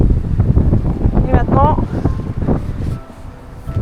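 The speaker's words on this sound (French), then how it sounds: "maintenant on est dans le vent." Steady, loud wind buffeting the microphone at a hanok village in Jeonju, South Korea, a constant low roar with faint voices in the background.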